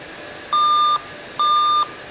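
Dell laptop diagnostic beep code for a failed hard drive: two steady electronic beeps, each about half a second long, roughly a second apart, clear over a faint hiss.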